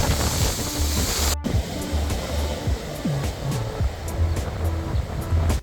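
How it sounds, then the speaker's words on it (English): Ocean waves break along the south Spanish coast, a steady roar of surf with rolling low rumbles and gusting wind across the microphone, loud and continuous with no voices. "now look at the waves."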